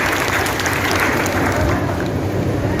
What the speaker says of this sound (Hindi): दिनेश जी की एक जोरदार तालियां दिनेश जी के लिए